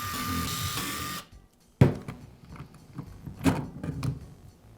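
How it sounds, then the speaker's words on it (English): Screws are taken out of the gearbox on a DeWALT cordless drill under repair, opening with a second of steady whirring before a string of close, sharp metallic clicks and small clatters of parts being handled. "Now remove the screws that secure the gearbox to the motor housing."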